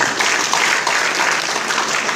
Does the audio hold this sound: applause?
yes